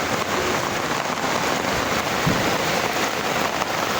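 Heavy rain pours down in a dense, steady roar during flooding in a residential subdivision, loud and close, with no voices over it.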